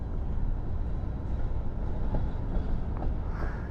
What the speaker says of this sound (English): we are waiting for a train. And man alive, is it slowing down right now